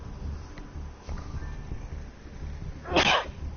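A single sharp sneeze bursts out near the end after a few seconds of quiet background murmur, loud and close, with no speech around it.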